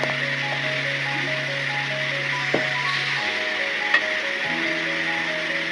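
Garlic paste sautéed in a pan for mixed vegetable sabzi sizzles steadily up close, with a couple of sharp utensil clicks over faint tonal background music.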